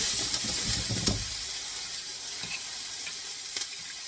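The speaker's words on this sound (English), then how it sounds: "we want it to start cooking the instant it hits this hot ass wok" Food sizzling as it drops into a hot wok while making juro, a loud hissing burst at first that settles into a steady, softer sizzle with a few small pops and clinks.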